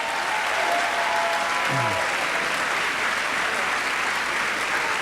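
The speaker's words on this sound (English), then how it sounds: "let's give these people a huge White Bear round of applause, please." Sustained, loud applause from a large audience at a convocation ceremony, an even wash of clapping with a faint crowd murmur underneath.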